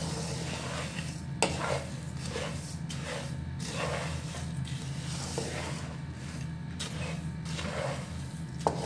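Whole garam masala spices dry-roasting in a pan, with steady stirring and scraping, a faint sizzle and occasional sharp clinks of a utensil against the metal, close up and with no talk.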